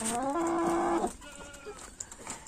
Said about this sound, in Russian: Два петушка сразу